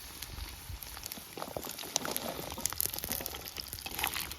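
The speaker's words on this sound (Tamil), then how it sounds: "வெங்காயம் பூண்டு நல்லா அந்த எண்ணெயிலே வதங்கி வரணும்" Onion and garlic sauté in oil with a faint, crackly sizzle and scattered small pops and spatters, quiet and close without talk.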